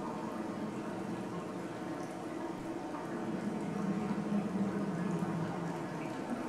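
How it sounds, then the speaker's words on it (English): Running and bubbling water echoes through a cave in the game Dear Esther, a soft, continuous liquid gurgle with a faint steady wash, fairly quiet and unbroken, with no talking. "Sound effects of the water are just great."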